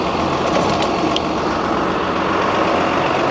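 JCB Fastrac tractor engine idling close by on a farm, a broad, steady diesel rumble without a break or speech.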